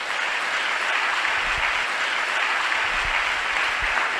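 A church audience at a Telugu sermon claps together, a steady dense wash of applause heard alone and evenly throughout.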